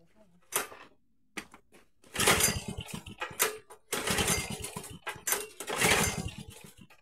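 A Kubota lawn mower engine sputters and roars in uneven bursts as its throttle is raised by hand, loud and close, with gaps between the surges.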